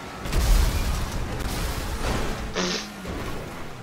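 Car explosion in a video game, a heavy low boom and crash that rolls into a rumbling, whooshing tail and a brief hissing burst, loud and alone with no talk.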